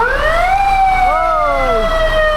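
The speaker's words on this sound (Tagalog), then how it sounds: "Ambulansya pala, kala ko bumbero." A loud, close ambulance siren wailing with rising and falling tones, a second siren tone overlapping midway, over steady traffic rumble on a flooded Manila street.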